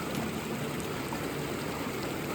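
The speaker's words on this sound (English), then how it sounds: "A nice wet snowy creek crossing here." Creek water rushes steadily at a wet, snowy crossing in the Wind River Range wilderness, a dense, even roar of flowing water that stays at one level throughout.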